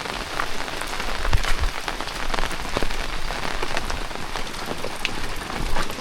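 Steady, heavy rainfall drums on surfaces in a Konkan village, a thick unbroken wash of close patter with scattered louder drops and no talking.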